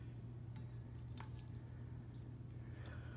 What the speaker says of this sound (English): I'm going to drain it. Hold on. There, I want to get the water out of here.